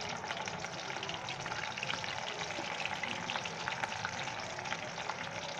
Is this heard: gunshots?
no